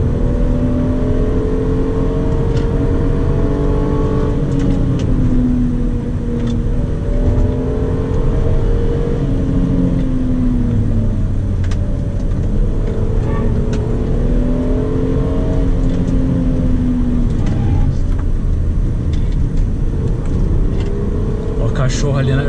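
Hyundai Azera with a 3.3 V6 pulling hard in first gear on an open country road, a steady loud engine drone rising in pitch through the run, with someone talking over it throughout.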